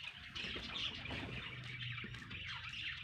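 Black partridges and pigeons kept in a farm aviary, giving a faint, continuous mix of chirps, clucks and coos, with occasional wing flutters in the background.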